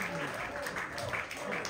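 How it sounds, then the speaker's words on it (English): Applause from an audience at a Blackpool Bash Weekend event, a steady broadband clatter of clapping that fills the whole stretch, with some crowd murmur mixed in. "Big round of applause for both contestants."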